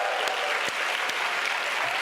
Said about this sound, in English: May we please give them a big round of applause.